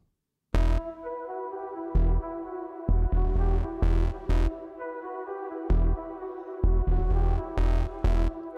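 Deep 808 bass from a Serum synth patch throbs in repeated booming hits beneath a bright synth melody, with a punchy layered attack, loud and up front in a hip-hop beat.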